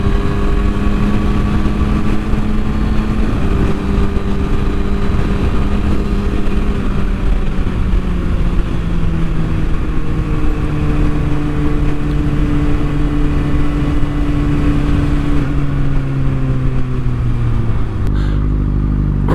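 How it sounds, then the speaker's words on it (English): Steady engine drone comes from a ridden motorcycle moving through road traffic, loud and close throughout, with pitch gliding slowly downward as it slows, and wind rumble underneath. "There's traffic."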